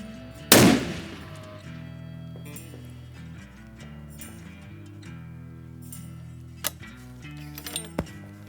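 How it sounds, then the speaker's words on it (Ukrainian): A single sharp shot from a Victrix Throne .375 CheyTac rifle cracks loudly near the start, followed by quieter clinks and small metallic taps over a low background hum. "Постріл номер 3"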